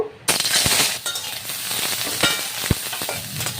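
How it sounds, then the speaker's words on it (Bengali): Eggplant slices frying in hot oil, a loud steady sizzle that starts abruptly, with occasional sharp pops and crackles scattered over the crackling hiss. "তো তেলটা আমি ভালো করে গরম করে নিয়েছি, এখন আমি বেগুনগুলো ভাজা করে নেব।"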